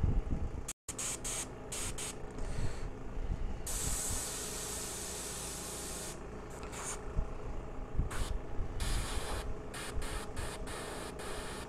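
Airbrush spraying thinned Games Workshop paint, a steady close hiss in long bursts separated by short breaks, with a faint background rumble.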